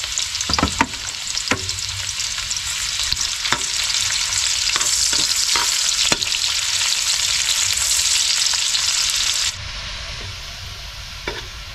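Garlic and onion sizzle steadily in a hot pan, a loud continuous frying hiss with scattered crackles and occasional stirring scrapes, easing slightly near the end.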